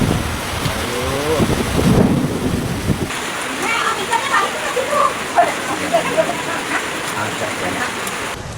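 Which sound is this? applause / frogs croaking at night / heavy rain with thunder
heavy rain with thunder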